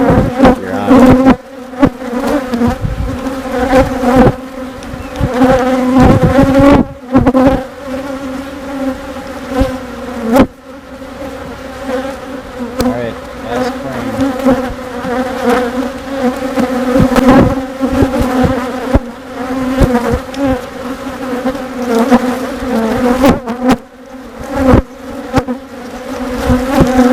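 Honeybees swarm around an open hive during an inspection, making a loud, dense, continuous buzzing drone close to the microphone. Individual bees flit nearby with wavering pitch, and no one speaks.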